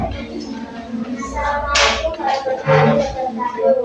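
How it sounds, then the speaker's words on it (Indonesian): Schoolchildren in a classroom clapping for a group, a few bursts of scattered hand claps mixed with children's voices and shuffling. "tepuk tangan untuk kelompok yang"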